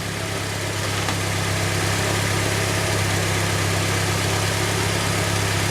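A 1990 Mazda Miata engine idles during a tune-up, running slightly high after a timing check. The steady, loud, close mechanical hum and vibration continue without a break.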